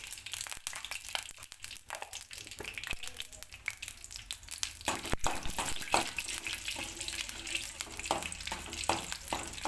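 Mustard seeds and cumin crackle and sizzle in hot oil for a chutney, a steady close frying hiss with scattered sharp pops and a few stirring clatters throughout.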